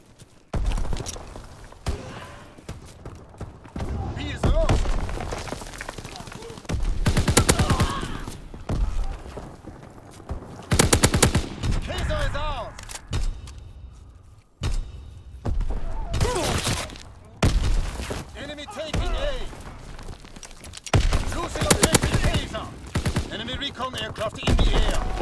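Strafing gunfire from a fighter plane in Call of Duty WW2 on the Shipment map: repeated loud bursts of rapid shots and impacts, mixed with game voice callouts and chaotic battle noise throughout.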